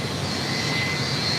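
An Aloha Air Cargo jet bound for Honolulu at LAX, its jet engine a brief, steady, loud roar with a high whine, no voices.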